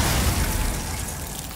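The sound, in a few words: Glacius ice spell cast in Hogwarts Legacy video game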